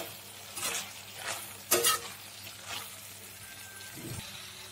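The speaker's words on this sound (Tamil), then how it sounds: "மசாலோட பச்சை வாசம் போகிற வரைக்கும் லைட்டாக நம்ம வதக்கி விட்டுக்கலாம்" Masala for brinjal tamarind kuzhambu sizzles in a pan while a spoon stirs it, with a few scraping strokes and clinks over a steady, low frying hiss.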